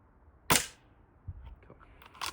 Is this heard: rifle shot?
yes